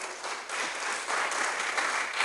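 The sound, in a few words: congregation applause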